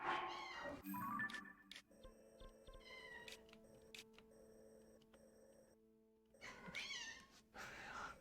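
A pet kitten meows several times, high and fairly close, over quiet background tones and a steady electronic hum from a gaming setup, with short gaps between the calls and no speech.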